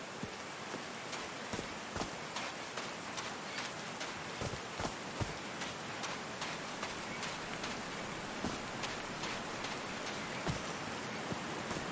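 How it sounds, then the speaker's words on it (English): Steady rain in the video game Call of the Sea patters continuously, with scattered louder drips and taps standing out against the soft, even wash. "These drops of rain are so refreshing."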